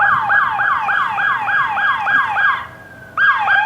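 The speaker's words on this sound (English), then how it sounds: "His little siren works." A small emergency vehicle's siren wails in a fast repeating yelp, steady and fairly loud, breaking off briefly near the end before starting up again.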